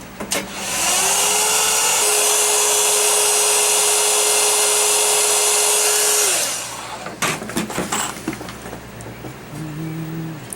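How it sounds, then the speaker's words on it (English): Heat gun blowing hard and steadily for about six seconds while softening PVC pipe for a pack frame, a loud airy roar with a constant motor whine, then cutting off to quieter handling clatter. "Back to the heat gun."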